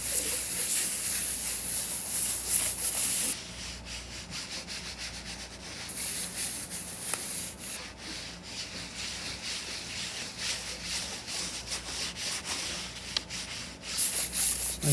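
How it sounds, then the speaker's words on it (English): A towel rubs over a charcoal drawing of drapery on paper, producing a continuous soft, dry scrubbing sound that stays steady and close, with a faint high hiss behind it and no talk. "Just kind of rub it like you're drawing with the particles and your towel."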